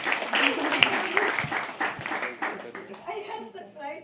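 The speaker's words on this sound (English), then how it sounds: "Keep clapping when she comes on stage." Audience applause at a live poetry open mic at The Habitat: dense, steady clapping runs throughout the clip, with a voice talking over it.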